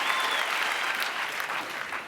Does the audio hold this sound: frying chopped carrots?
no